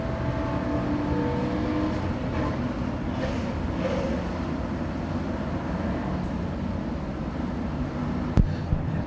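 A field of race cars rolls out to start a Grand National A main on a dirt track, engines forming a steady, loud, broadband roar that stays constant throughout, with a brief sharp knock near the end.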